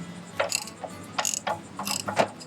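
A socket wrench with a 1 1/16 socket ratchets while loosening an RV water heater anode rod, giving several short bursts of close metallic clicking with brief pauses between them, no voices.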